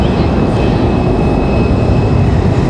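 Jet airliner of American Airlines passing at Raleigh-Durham International Airport, a loud, steady broadband roar with a faint high whine, sustained throughout without any voices.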